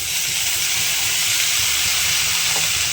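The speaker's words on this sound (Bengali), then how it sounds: "পেঁয়াজটা একটু ভাজা ভাজা হতে থাক।" Onions frying in a pan for jackfruit kofta curry give a steady, close hiss of sizzling, constant and unbroken with no voices.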